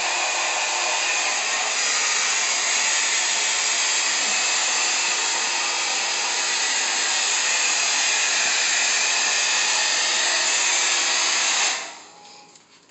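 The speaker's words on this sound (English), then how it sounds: "this is just a blow dryer" A blow dryer roars steadily at close range, a dense continuous whoosh that holds level for about twelve seconds before switching off.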